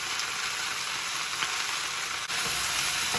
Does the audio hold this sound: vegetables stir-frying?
yes